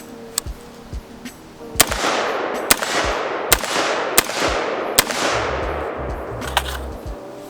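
Rifle shots from an IWI Zion 15 AR on an outdoor range, a series of sharp cracks fired at irregular intervals, each followed by a brief echoing tail, moderately loud and heard alone.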